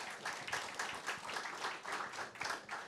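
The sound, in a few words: audience applause welcoming racecourse managers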